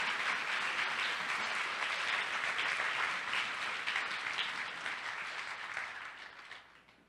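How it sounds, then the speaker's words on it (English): Sustained audience applause fills a hall at the ANE 2017 closing ceremonies, a thick, continuous roar of clapping that stays strong for several seconds, then gradually fades out toward the end. "let's give a round of applause to Ryan for that generous donation"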